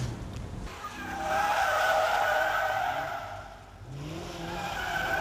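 A race car does a burnout on a circuit, tires squealing and skidding in a loud sustained screech that swells, dips briefly, then rises again over engine noise.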